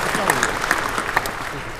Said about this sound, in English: I suggest you all stop to give yourselves some applause